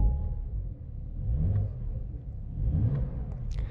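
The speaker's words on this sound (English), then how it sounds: "We'll give it a couple blips in normal mode so you guys can hear that." Porsche 911 Carrera 4S (992 generation, 2020) with exhaust valves shut in normal mode gives a couple of restrained revving blips over a low idle rumble, fairly close and not especially throaty.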